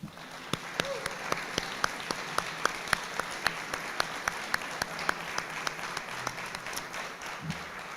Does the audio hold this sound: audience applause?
yes